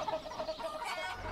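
A chicken clucks in a Manual Samuel Nintendo Switch ad, giving quick repeated clucks over a busy, noisy game mix in a short burst.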